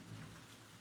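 Steady heavy rain falls at night, a dense continuous wash of sound with a low rumble underneath and no voices.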